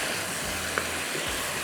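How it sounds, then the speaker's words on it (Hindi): Hand-minced qeema frying in a pan on high flame gives a steady, even sizzle that stays continuous and moderately loud at close range, with no speech heard over it. "तो अब इसकी करनी है हमने भुनाई, थोड़ी सी बेशक हाई फ्लेम कर लीजिएगा ताकि ये अच्छी तरह से भुन जाए।"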